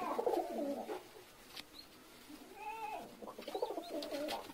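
Pigeons cooing softly at close range, a few separate low throaty coo phrases with quiet gaps between them.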